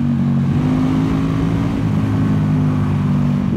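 A KTM 1290 Super Duke R motorcycle with a loud aftermarket exhaust pulls hard under acceleration, a steady, close, throaty engine drone holding for a few seconds with no talk over it.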